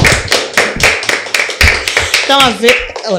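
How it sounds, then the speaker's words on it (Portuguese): A studio audience at a Portuguese children's television show claps hands in a quick, loud, rhythmic beat, close and bright, with a voice speaking over the end of it. "Vamos bater palmas, porque as crianças crescem."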